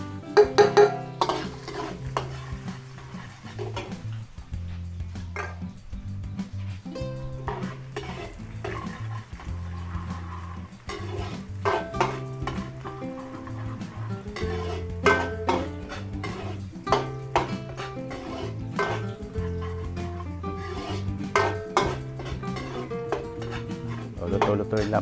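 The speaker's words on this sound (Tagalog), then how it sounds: "Luto-lutuin lang po natin yung ating bawang." Garlic sautés in cooking oil for Filipino beef with broccoli, with a spoon scraping and clattering against the pan in a busy, irregular rhythm over a soft sizzle, close by.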